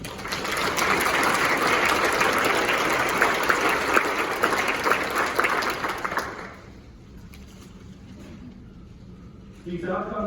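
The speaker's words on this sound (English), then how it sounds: "Would you please give us a round of applause for their hard work?" An audience claps at a BBB 2021 event, dense steady applause for about six seconds, then it fades to quiet before a voice resumes near the end.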